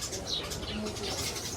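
Several birds calling in a nearby mango tree, with soft cooing and brief chirps over a steady outdoor background hiss.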